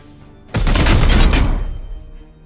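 Support fire in the Warhammer 40k: Chaos Gate - Daemonhunters video game: a sudden loud burst of rapid gunfire and booming impacts lasting about a second before fading out.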